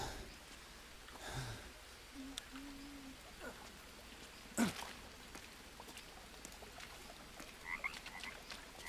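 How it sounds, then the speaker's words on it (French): A toad croaks in the jungle survival game Green Hell, a few faint low calls amid a hushed night ambience, with one sharper brief sound near the middle and no clear speech. "j'entends un crapaud."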